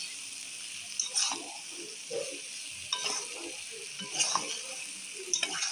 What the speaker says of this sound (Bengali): একটু নেড়ে চেড়ে জল দিয়ে দেবো।